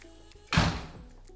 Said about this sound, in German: Mach mal die Tür zu.